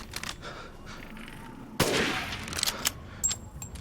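A single sharp gunshot rings out in the horror game Resident Evil Village, a loud broadband blast with a short decaying tail, set against low game ambience and a few softer clicks.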